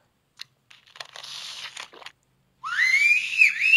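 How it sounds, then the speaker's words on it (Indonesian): Someone whistles a bright, wavering tune after a stretch of crunching and chewing sounds, close and fairly loud, with no talking. "Kalau enak kok siul-siul."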